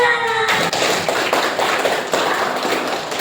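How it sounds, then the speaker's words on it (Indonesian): A classroom of students claps for about three seconds, an irregular patter of many hands that stays fairly even and close, with no talk over it. "Oke, tepuk tangan."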